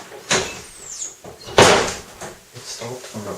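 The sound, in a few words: door closing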